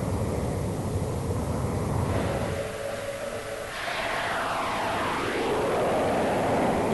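A MiG-23MO fighter jet flies past with a broad roaring rush and a sweeping pitch shift mid-clip, loud and continuous with wind-like noise throughout.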